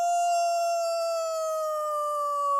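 A person imitating a hound's howl in an empty lecture hall, one sustained, steady, slightly falling tone ringing with reverberant echo, loud and alone.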